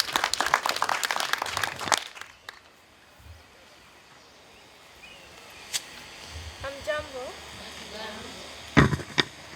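Audience at a primary school special needs classroom handover ceremony in Kenya, a burst of applause for about two seconds, then quiet room with scattered claps, murmurs and a few sharp knocks.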